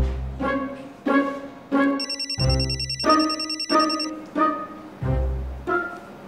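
A telephone rings in repeated loud bursts, each ring a short warbling trill, over a low musical backdrop with no talking.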